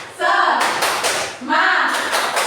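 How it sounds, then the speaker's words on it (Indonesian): Classroom clapping chant 'tepuk semangat' during a simulated Indonesian lesson: bursts of rhythmic hand claps mixed with children's chanting voices, close and lively, repeating in two short phrases. "1, 2, 3. Tepuk semangat."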